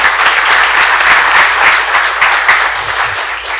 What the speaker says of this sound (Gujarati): મણિબેન માટે એક વખત જોરદાર તાળી